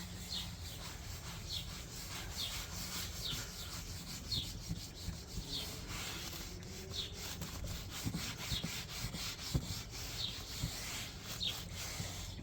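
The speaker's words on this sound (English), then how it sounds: "but just rubbing the oil in" Owatrol Polytrol oil is rubbed into rubber car trim, producing a steady, close scrubbing and rubbing sound with rhythmic back-and-forth strokes repeating for several seconds, with no talking.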